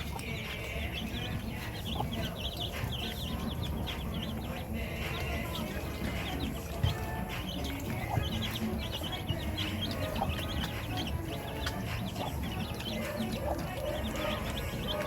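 Chickens cluck and chatter in a busy yard, scattered calls over a steady rustling background with occasional sharper squawks.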